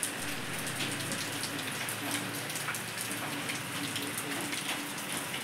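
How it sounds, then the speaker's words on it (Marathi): Steady rain falls and patters on surfaces outdoors, a dense even hiss that holds without pause throughout. "पाऊस आला तर आम्ही इथं थांबलोय"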